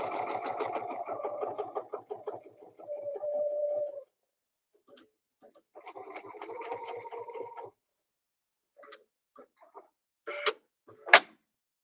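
A sewing machine stitching fabric along a quilting template, running in bursts of rapid mechanical whirring and stopping in between, with a few short clicks near the end.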